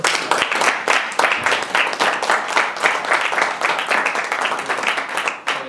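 Audience at a labor reform forum breaks into sustained applause for the presenters, many hands clapping densely and steadily for several seconds, loud and close, with no talk over it.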